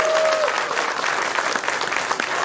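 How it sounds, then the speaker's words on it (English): Applause from a convention panel audience at San Diego Comic-Con, a steady wash of many hands clapping, loud and sustained, with a brief tone at the start. "Can I just buy a round of applause?"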